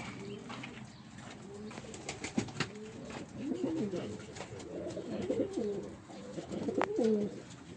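Several male racing pigeons coo in low, rolling phrases, overlapping and repeating, with faint background noise and occasional rustles.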